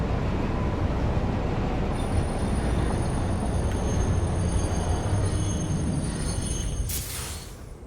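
Steady, loud rumble of a train riding along rails in the video game Satisfactory, a continuous dense clatter that eases off slightly near the end, with a brief hiss at the close.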